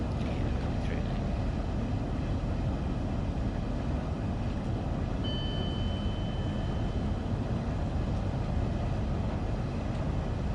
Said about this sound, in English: you'll notice you start to get some rattles and bumps noises